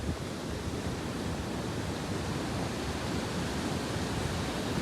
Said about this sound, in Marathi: हे बघा, हे बघा मिनी वॉटरफॉल.